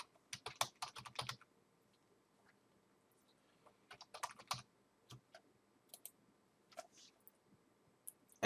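Someone types an address on a computer keyboard in quick, faint bursts of clicking keystrokes separated by quiet pauses.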